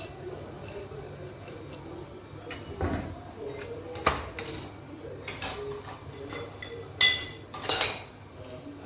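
A knife chops peeled beetroot into small pieces, giving irregular sharp taps and clinks against a board and nearby utensils in a quiet kitchen.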